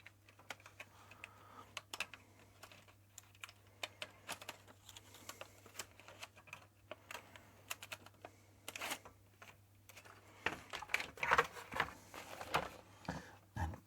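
Keys clatter steadily on a ZX Spectrum +2 computer keyboard, a quick irregular run of soft clicks that grows louder and busier near the end, with a faint mains hum underneath and no talking.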